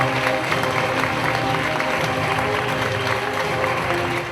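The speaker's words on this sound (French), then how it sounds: "On peut l'applaudir." A loud, sustained round of crowd applause fills a medal ceremony at the 45th skills olympiad honouring a gold medal winner, with dense clapping and some cheering throughout.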